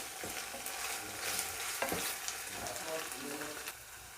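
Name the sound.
ginger and garlic being stirred and fried in oil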